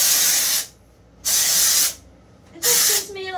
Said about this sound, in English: I'm gonna go upside down and I'm gonna spray.